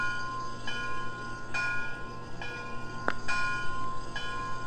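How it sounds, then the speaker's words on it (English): A model MTH Hillcrest Lumber Climax locomotive rings its bell in steady, evenly spaced electronic clangs, about every second, over a low hum. "We'll start with the bell."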